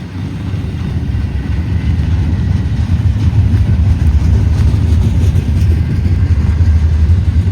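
A train rolls past a derailment site on a windy, mild day, making a loud, steady low rumble with an engine-like hum that swells slightly and holds without letup, with no voices.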